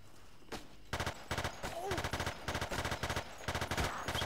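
Rapid automatic gunfire in the video game Battlefield 2, repeated bursts of loud rattling shots through most of the moment, with faint game voices underneath.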